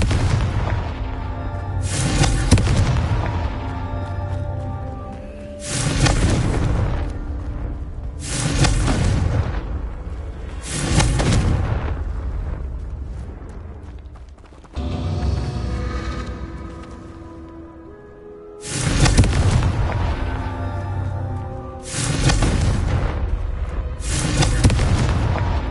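Loud booming blasts of the Confringo fire curse in Hogwarts Legacy, played on PS5, recurring in bursts every few seconds, each a heavy impact with a rumbling decay, near and alone without talk.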